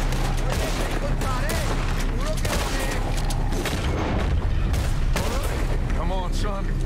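Dense gunfire erupts in a Red Dead Redemption 2 shootout during an escape from Guarma, rapid shots and booming blasts layered over constant battle noise, while voices shout briefly amid the chaos.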